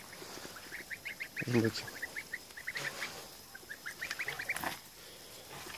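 Geese and their goslings outdoors give repeated honks and high peeping calls in quick clusters, moderately near, with one louder honk partway through; someone speaks briefly.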